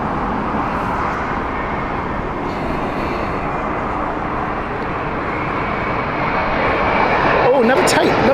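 A passenger airliner passes over Heathrow Airport on its inbound flight from New Orleans, giving a loud, steady engine roar that builds slightly toward the end, with voices talking over it.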